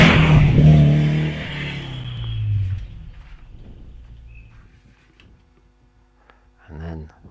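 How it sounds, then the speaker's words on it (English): Gilburn Genie race car pulling away up the Wiscombe Park hillclimb, a loud close engine roar that fades steadily into the distance over a few seconds, followed by quiet and then a brief voice. "Mark Jones then away up the hill with the Gilburn Genie"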